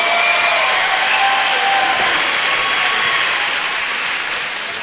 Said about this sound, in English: come on, one more round of applause, another great fight